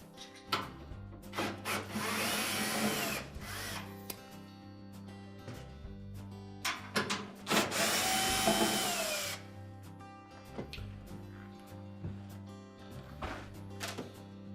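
A power drill works on a 5/16 hex head screw on a Whirlpool washer, with bursts of whirring and grinding separated by short clicks and knocks, fairly quiet and close.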